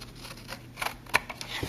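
Scissors trim excess patterned paper from a handmade Mother's Day card, giving a few quiet, close snips and paper rustles spread over under two seconds.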